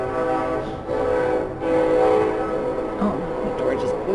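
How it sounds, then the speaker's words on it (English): A passing train's horn sounds through an open door during a storm, a sustained multi-tone blare with steady rolling rail rumble beneath it, fairly loud and nearby, while a person talks over part of it. "the train was loud because the door blew open because of the storm"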